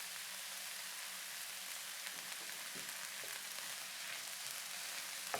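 Vegetables stir-frying in a pan for Yangzhou fried rice give a steady, fairly quiet sizzle that runs the whole time, with a few soft scrapes of stirring and no voices.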